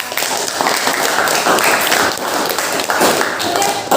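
Students in a classroom clap together after a biology lesson answer, loud close rhythmic clapping with thumps and taps and voices running underneath the whole time.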